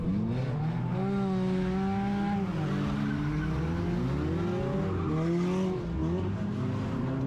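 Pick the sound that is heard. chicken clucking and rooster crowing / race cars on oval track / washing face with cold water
race cars on oval track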